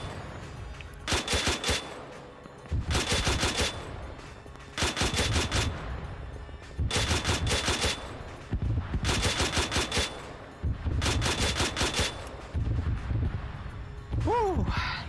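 Bursts of gunfire in the military shooter Arma 3, with repeated rapid automatic volleys coming in clusters across the whole stretch, loud and close, separated by short pauses.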